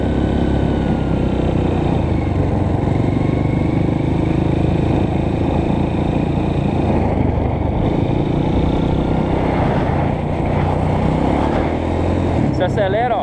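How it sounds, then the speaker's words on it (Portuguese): Honda CRF 230 dirt bike with a failing, slipping clutch, its engine droning loud and steady up close as it struggles to climb a hill, with a voice talking over the noise. "Sintomas graves de embreagem. A motinha não quer subir um morro"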